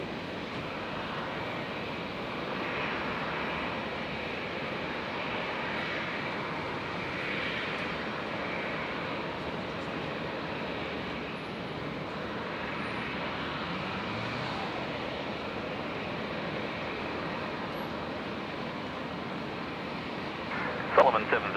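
A Jetstar jet airliner takes off from runway 01 right at Brisbane Airport, its engines a steady, distant roar that holds for about twenty seconds, with brief louder bumps near the end.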